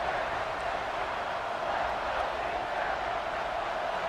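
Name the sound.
crowd cheering rising at a football game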